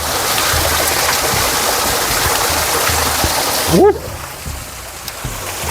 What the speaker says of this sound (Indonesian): Dan ini ada air terjun.